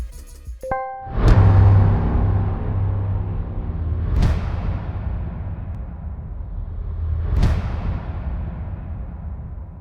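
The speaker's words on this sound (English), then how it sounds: "Some of my favorite hits are deep bass hits that are just a bit more subtle" Three deep, booming bass hits spaced a few seconds apart, each swelling and decaying slowly into a low rumble, after a brief electronic blip.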